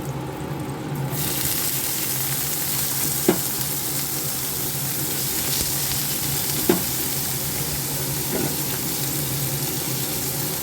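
Chopped onion fries in a hot pan with oil, a steady loud sizzle throughout with a couple of sharp utensil clinks against the pan, close and alone.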